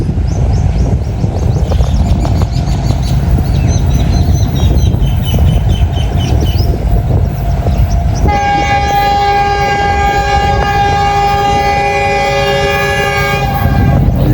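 A Green Line passenger train rolls past nearby with a steady rumble and rattle, then its horn blasts long and loud over the rail noise through the second half.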